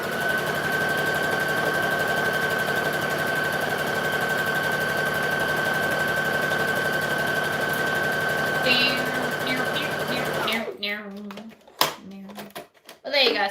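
A sewing machine runs a long, steady top stitch with an even mechanical hum and whine, then stops near the end, where a person starts speaking.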